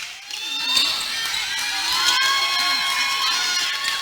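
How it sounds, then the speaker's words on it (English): Home fans and a traveling Liberty crowd cheer at a varsity basketball game against the Eagles, with high-pitched shouts and whoops rising over a steady crowd roar. "the Liberty crowd have a nice traveling crowd here. Get noisy"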